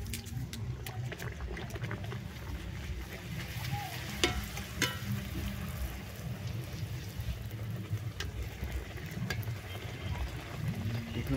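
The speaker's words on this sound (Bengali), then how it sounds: "ফুচকাগুলোকে এবার ভেজে নেব।" Fuchka (pani puri) shells frying in hot oil, giving a steady, dense sizzle that runs unbroken throughout, with a few brief sharper crackles near the middle.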